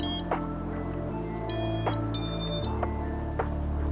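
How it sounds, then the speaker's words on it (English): An FPV drone's ESC on a custom ImpulseRC Apex DC Evo 5-inch build gives short electronic startup beeps at power-on, a few rising tones stepping in pitch over a low steady hum, close and clear. "the noises that we're hearing right now are basically indicating that our ESC is booting up properly"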